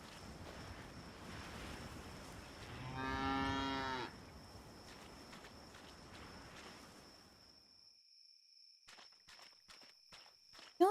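A cow moos once in a video game, a short loud bellow over soft ambient wash and game footstep sounds, followed by quieter clicks and near silence.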